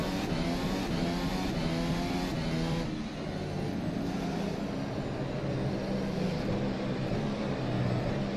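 A Formula SimRacing 2018 development race car in rFactor 2 on the China circuit, its engine revving and shifting up and down in a loud, close, continuous whine through a testing run.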